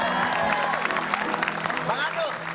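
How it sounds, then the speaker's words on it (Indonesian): A studio audience on an Indonesian comedy talk show claps together, a steady patter of applause mixed with voices and laughter that carry over the top. "Tepuk tangan untuk Baby."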